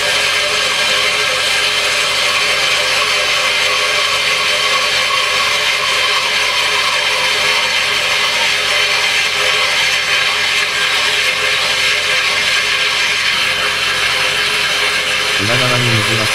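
A power drill bores an overflow hole through aquarium glass, grinding with a loud, continuous whine for about sixteen seconds under a voice explaining the work. The sound shifts briefly near the end.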